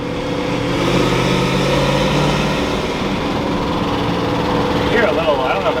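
A finished project truck drives along with its engine running steadily, a loud continuous rumble with a faint tick or lifter noise.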